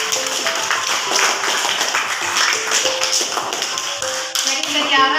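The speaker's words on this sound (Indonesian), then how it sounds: "tepuk tangan dulu" A classroom of students claps hands together, a sustained burst of brisk overlapping claps close by, with a voice speaking over it.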